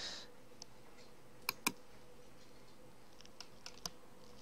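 A computer mouse gives a couple of sharp clicks in quick succession, then a few fainter taps, close and isolated in a quiet room.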